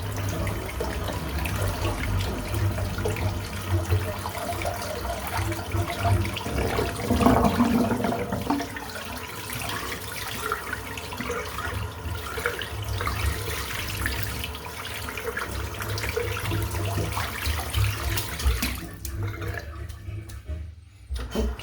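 Water runs steadily from a tap as soap is rinsed out of a 24mm shaving brush knot, a continuous close splashing rush lasting about twenty seconds before cutting off near the end, with no voices.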